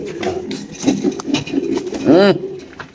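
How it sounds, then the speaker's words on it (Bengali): A pair of black Lahori pigeons coo at close range, low throaty pulses repeating through the clip with one louder rolling coo near the end, mixed with soft background rustle. "এখানে আছে একজোড়া কবুতর দেখতে পাচ্ছেন"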